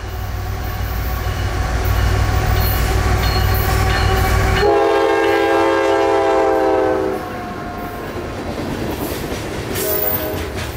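A CSX freight train rumbles past close by, heavy low roar with steady clatter of cars, the rumble easing partway as wheel noise and squeal continue.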